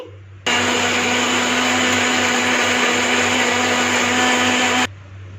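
A blender runs at high speed on chicken mince with soy sauce, whirring loudly for about four seconds, a steady dense roar that starts and stops abruptly over a low hum.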